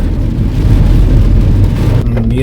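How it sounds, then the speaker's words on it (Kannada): Heavy rain pouring down in a loud, dense, continuous hiss that drops away abruptly near the end, leaving a quieter low hum. "ಫುಲ್ ಮಳೆ."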